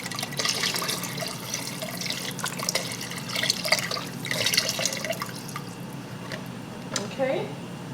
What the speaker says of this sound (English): And place the water in there.